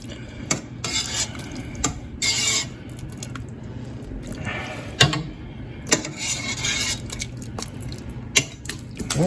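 Chunks of pork butt and vegetables are served into a bowl with clinking utensils, scraping, and soft wet thuds in irregular bursts, close by and with no talking.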